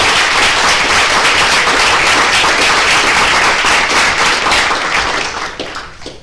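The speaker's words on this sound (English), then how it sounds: "I would like a round of applause for Officer Redmond." Loud, sustained applause from a crowd at a land use board meeting, given in honor of a police officer, with dense clapping that holds steady and then tapers off near the end.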